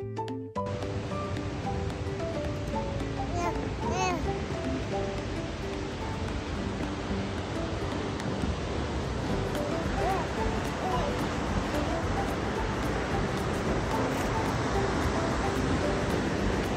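A Tennessee waterfall pours in a steady, unbroken roar of rushing water, loud and constant throughout, with people talking and calling out over it.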